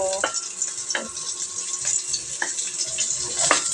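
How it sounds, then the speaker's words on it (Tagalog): Onions sautéing in a pan for Filipino tinulang tahong, a steady sizzle and fry with scattered stirring scrapes and clinks, close and continuous with no talk. "Luto-lutuin lang natin yung sibuyas."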